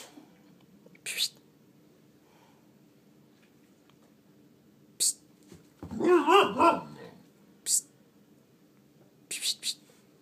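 A dog barks in a quiet indoor room, a short cluster of several sharp barks in the middle, with a few soft clicks and rustles before and after.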